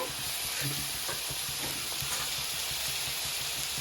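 Green chili and garlic fry with onions in a hot pan, giving a loud, continuous sizzle and hiss with faint scraping from stirring, and no talk.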